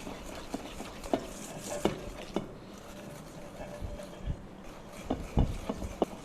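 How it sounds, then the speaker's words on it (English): Batter ingredients whisked together in a bowl, soft steady stirring with scattered sharp clicks of the whisk against the sides, close and moderately loud. "Keep whisking until all ingredients are combined evenly."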